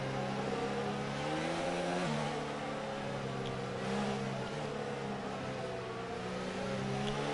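F1 car in the F1 2019 racing game at the Spanish Grand Prix, its engine droning and revving steadily while weaving to warm up the tyres, heard close and continuous with no talking.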